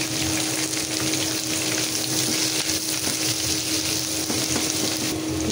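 Onions dropped into hot oil with dried chillies, making a loud, steady sizzle that holds for several seconds, close by and with no talk.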